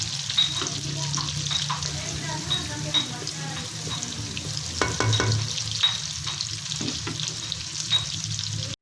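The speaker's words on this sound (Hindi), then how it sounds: "हमने प्याज डाल दिए और ये वाले चमचे 3 हमने घी के डाल दिए हैं।" Onions frying in about three spoonfuls of ghee give off a continuous bubbling sizzle, with occasional stirring clinks and scrapes of a spoon in the pan.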